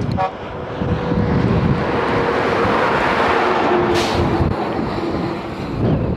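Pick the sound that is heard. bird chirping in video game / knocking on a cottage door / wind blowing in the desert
wind blowing in the desert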